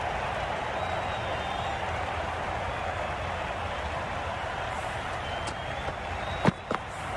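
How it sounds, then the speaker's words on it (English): A simulated stadium crowd roars in an India vs Zimbabwe one-day cricket video game, a steady wash of distant cheering with a couple of faint sharp knocks near the end. "The crowd are going wild."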